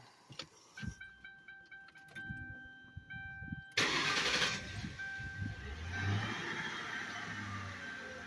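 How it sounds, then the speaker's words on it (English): A Lincoln Town Car engine cranks briefly and catches, then settles into a steady idle, heard up close after a fuel filter replacement. "let's fire this baby up. Might have to prime it"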